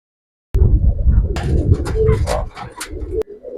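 Giribaz pigeons with silver colouring cooing up close, soft throaty rolling coos that start abruptly after a brief silence and continue steadily.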